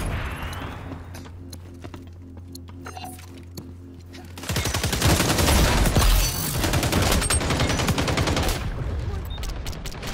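Dense, loud gunfire bursts in a multiplayer shooter game erupt after a quieter opening stretch, rattling rapidly and continuously up close with scattered heavier booms.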